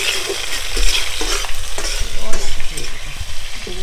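Dried red chillies and five-spice seeds sizzle and spatter in hot mustard oil for a sour-sweet jujube pickle, with steady loud frying hiss and a few spoon-stirring scrapes, no voices.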